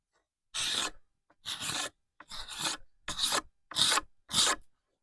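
A scraper with a burred edge shaves curls of wood off a bow stave in six distinct rasping strokes, each about half a second long, separated by short silent pauses, close and clear.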